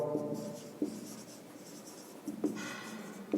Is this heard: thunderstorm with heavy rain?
no